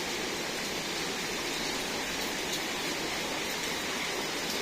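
Dense, even hiss of heavy rain falling in a village during a storm, steady and enveloping with no voices.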